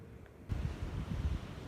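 Steady outdoor wind buffeting a microphone on a cold, chilly day of about 22 degrees Fahrenheit, a low rumbling gust that rises after a brief quiet start and holds on without any talk.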